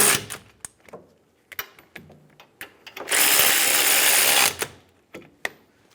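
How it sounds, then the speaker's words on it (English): A power tool snugs caliper bracket bolts while a right rear CV axle is replaced on a 2008-2017 Buick Enclave: one loud, steady whirring burst of about a second and a half, set among sharp metallic clicks and clanks. "Snug the bolts down."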